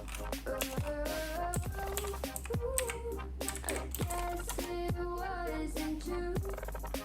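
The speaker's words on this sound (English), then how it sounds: "Listen to the clicky sound." Clicky keys on a RedGear Chameleon RGB mechanical keyboard clatter under steady fast typing, close and crisp, with background music playing underneath.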